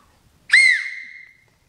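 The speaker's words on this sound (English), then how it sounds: "Here's a fun project, a wood whistle." A small handmade oak whistle, about 1.25 inches across and 2¼ inches long, gives one short, clear, bright blast that rises then tapers off, alone in near silence.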